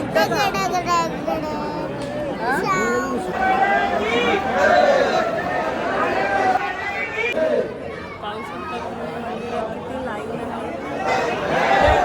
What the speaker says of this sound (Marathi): मंदिरात आरती चालू असल्यामुळे इथे गर्दी दिसून येत आहे